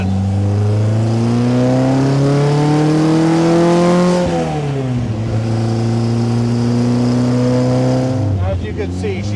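A 1955 Austin-Healey 100S tribute engine pulls hard in fifth gear on a New Mexico straight. The strong harmonic drone climbs steadily, dips briefly around a shift or lift, then holds close and loud throughout.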